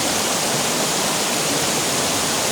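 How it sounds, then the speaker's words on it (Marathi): A stream in Konkan flows strongly, a loud, dense, continuous rush of water close by with no pauses. "हे बघा पाणी इथे जोरदार वाहत आहे"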